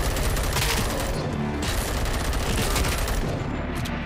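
In the Robocop: Rogue City video game, gunfire from Robocop's Auto gun pours out in a dense, loud, continuous burst of rapid shots filling the whole stretch with no pauses.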